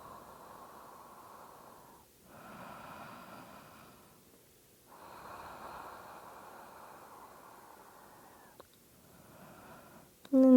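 Slow, audible breaths during a seated yin yoga stretch, long airy inhales and exhales in three or four drawn-out cycles with pauses between, close and soft, ending in a brief clatter.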